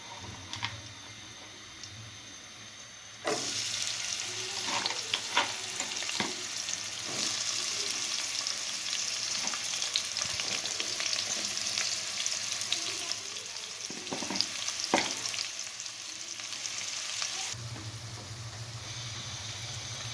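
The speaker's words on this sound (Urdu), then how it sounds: "اب ہم پیاز کو تب تک فرائی کریں گے جب تک یہ لائٹ براؤن نہیں ہو جاتا۔" Onions frying in hot oil for chicken pulao make a constant loud sizzle that starts abruptly, with scattered crackles and stirring scrapes, then cuts back to a quieter hiss near the end.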